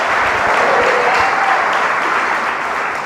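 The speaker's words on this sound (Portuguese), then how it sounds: "E todo aquele que nele crê, dê um forte aplauso ao Senhor" Sustained church congregation applause during a worship service, a thick even roar of many hands clapping that continues steadily throughout without speech over it.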